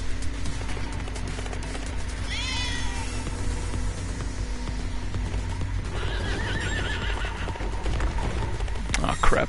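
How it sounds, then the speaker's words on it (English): In the Trials Fusion racing game, a horse ridden in place of a bike neighs and whinnies over clip-clopping hooves and engine-like game noise, with someone talking throughout. "The horse is pretty much the same as a bike, it just sounds and looks like a horse."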